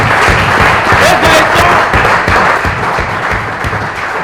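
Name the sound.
audience applause for game show contestant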